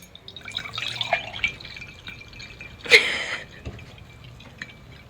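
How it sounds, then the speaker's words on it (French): Lemonade water is poured into a drinking glass, giving light trickles and drips with a brighter splash or clink near the middle, close and alone without talk. "Je vais mettre l'eau de la citronnade dedans"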